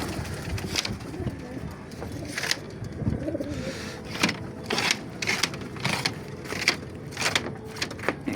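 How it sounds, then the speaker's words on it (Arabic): Pigeons coo in a loft, with soft throaty calls repeating through the whole stretch amid flapping and shuffling, with a faint rumble of distant traffic behind. "الحمام ده مكلوف متأخر"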